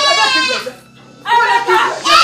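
A goat bleats loudly and close by in repeated wavering cries, with a short pause in between, in a Nigerian home drama scene.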